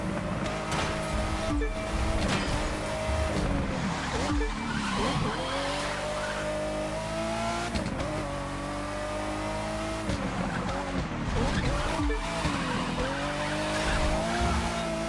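Racing car driven in The Crew 2, the Rose model, engine droning steadily with pitch rising and falling through gear shifts, plus tire squeal and skidding throughout, loud and continuous.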